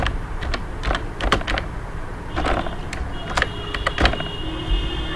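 Quick bursts of computer keyboard typing, irregular taps and short runs of keystrokes, sit close and moderately loud over a faint steady background hum.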